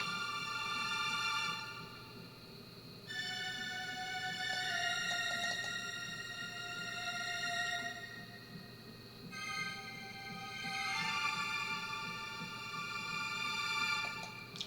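An orchestral excerpt for a game soundtrack, with high strings layered over brass and a low, steady foundation. The full ensemble swells and recedes gently in long, sustained phrases, moderately quiet throughout.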